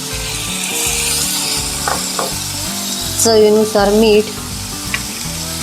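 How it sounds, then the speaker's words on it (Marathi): Chopped onion and tomato sizzle and fry steadily in a pan for a homestyle Marathi cucumber vegetable dish, with a brief spoken remark and short stirring clatter partway through. "तर आता आपण कांदा भाजून घेऊया"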